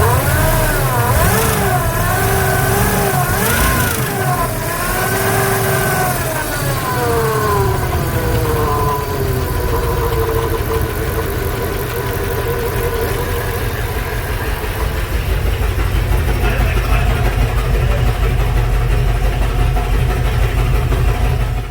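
A 1996 Jeep Grand Cherokee engine runs warm with a throttle hesitation, revving up in uneven swells that sag and stumble, then settling into a loud, steady idle drone that holds to the end.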